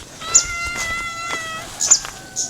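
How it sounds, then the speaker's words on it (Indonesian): A cat meows repeatedly, a string of drawn-out, wavering cries, fairly close, over a faint background hiss. "Ih, ditemenin kucing."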